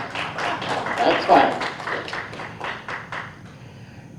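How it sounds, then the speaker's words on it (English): Audience clapping for a candidate at a town meeting's candidates night, a moderate burst of many hands swelling then tapering over a few seconds, with a brief spoken remark near the end. "You can applaud now."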